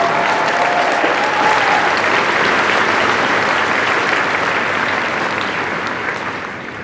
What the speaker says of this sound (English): Please, a round of applause for Dark Horse.